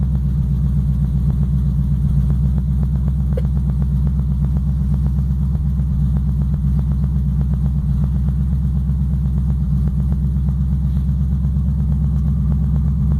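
An engine warming up at a steady idle, its deep, even rumble close and continuous throughout with no voices.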